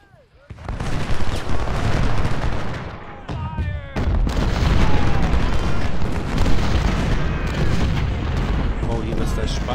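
Dense in-game gunfire and artillery booms from a Civil War battle at Chancellorsville in Ultimate General: Civil War, a sustained rolling barrage of volleys that briefly dips before building again, with speech mixed in.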